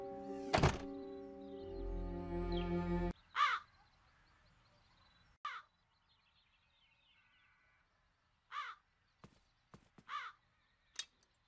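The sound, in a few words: crows cawing in video game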